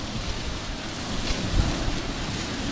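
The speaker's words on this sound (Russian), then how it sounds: "Сегодня у нас ветрено, поэтому будет все шуметь." Wind and surf on the Azov Sea shore on a blustery day: a steady, close broadband roar of breaking waves mixed with wind buffeting the microphone, swelling briefly in the middle.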